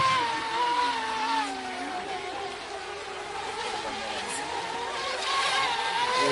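Racing motorboat engines from a mini mono boat race roar continuously, a dense high-pitched whine with shifting pitch as the boats run, steady and loud with no talk heard.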